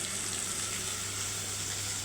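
Water running steadily from a kitchen tap as hands are washed, a continuous hissing splash with a faint frying sizzle underneath, brief and unbroken.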